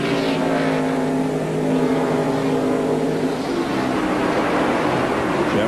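Stock cars from the 1997 NASCAR Winston Cup race at Watkins Glen scream past on the road course. The engines roar loud and sustained, with one blaring pass rising and falling against a constant high-revving drone.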